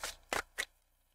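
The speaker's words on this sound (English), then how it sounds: "All right, two shuffles, Scorpio." A deck of tarot cards is shuffled by hand: three quick riffling bursts close to the microphone, the first two longest, followed by a short quiet tail.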